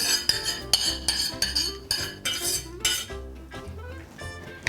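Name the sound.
adding steamed vegetables to bechamel sauce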